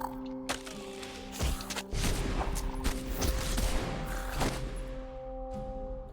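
Gunfire in the action game The Incredible Adventures of Van Helsing: a run of heavy booming shots and thuds over a droning musical score, fading out to the music alone.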